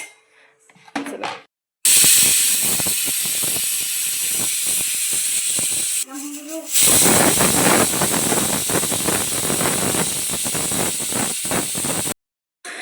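A pressure cooker cooking khichdi hisses steam in loud, continuous bursts, broken by a short gap and followed by a stretch of sputtering, ratcheting hiss before it cuts off abruptly.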